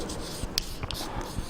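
Chalk or marker scratching on a board during a Hindi banking and income tax lesson, short faint strokes and taps, a few sharper marks, no talk.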